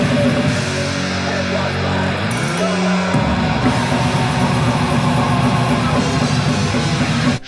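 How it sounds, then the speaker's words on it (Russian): Loud, dense death metal with distorted guitars and thick low-end chugging, continuous and saturated throughout with no pauses. "но их death metal звучит так,"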